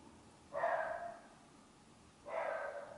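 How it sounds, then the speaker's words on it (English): Indoors, a dog gives two separate muffled barks a little under two seconds apart. Each bark is drawn out and somewhat distant, and low background hiss fills the gaps. "And that's my dog barking."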